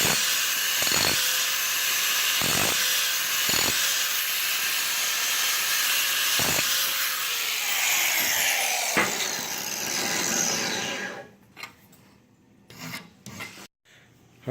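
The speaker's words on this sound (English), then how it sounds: "part of these brackets will need to be ground down to fit the curve of the plate" Rough metal grinding on steel brackets being shaped to fit a curved plate, a loud steady rasping hiss with several short interruptions, ending in choppy bursts as the tool cuts out.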